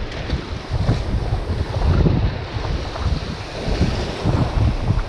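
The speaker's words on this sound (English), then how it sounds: "It's windy, but it's not cold yet." Strong wind blowing on the rocky Oregon coast, buffeting the microphone in a loud, steady roar with gusty surges and rumbling low noise throughout, no voices.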